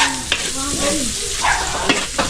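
Onion hits a hot pan and sizzles loudly, a dense steady frying hiss with scraping stirs and a few clinks close by.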